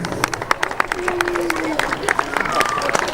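A crowd applauds as a parachutist touches down at an outdoor commemoration of the 79th anniversary of the Cichociemni airdrop. Scattered clapping continues under a voice and crowd chatter.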